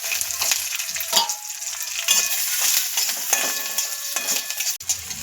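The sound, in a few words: garlic sautéing in a pan with cumin and coriander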